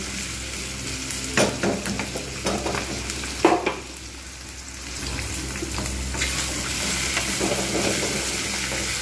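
Taro pieces and a little onion frying together in a pan, a steady broadband sizzle with scraping stir strokes and clatter early on, then a softer continuous hiss.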